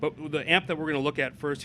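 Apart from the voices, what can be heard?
No everyday noises stand out.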